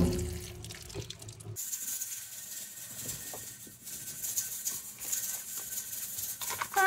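Water running and trickling as rinsed garbanzo beans drain, a steady close splashing rush after a brief quieter start, with no talk over it.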